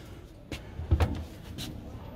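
Drawer in a Mobilvetta Design Admiral campervan being pulled open after coming off its rails, giving a few sharp knocks and a rattling clunk, close and moderately loud, with no speech over it.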